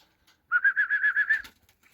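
Turkish tumbler pigeons take off together, a quick run of about seven rhythmic wing flaps close by, loud and alone, ending abruptly after about a second.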